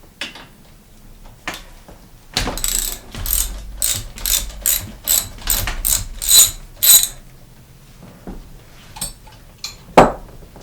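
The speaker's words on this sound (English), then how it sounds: "I'm using a hex head socket on a socket wrench to break it free" A socket wrench with a hex head socket ratchets in a fast series of sharp, close clicks as it breaks a rusted bolt free on a mountain bike's V-brake, followed by a few scattered knocks.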